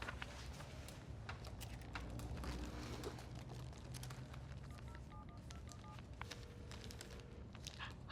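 Telephone being dialed in a quiet room, a series of short distinct keypad tones pressed one after another at an uneven pace, fairly faint against low background noise.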